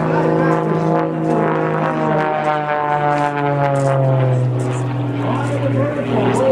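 Propeller airplane rolling through aerobatics at a 2011 air show in West Milford, its steady loud engine drone wavering in pitch as it maneuvers, with someone talking over it throughout.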